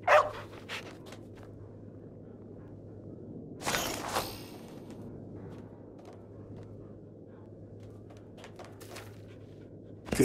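A dog barking in the VR game Arizona Sunshine 2, with a few sharp barks at the start and a louder burst midway over a steady low hum of game ambience.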